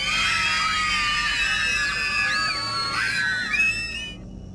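Several high, piercing screams overlap and slide in pitch, like children shrieking while running away in a village, loud and continuous before cutting off abruptly.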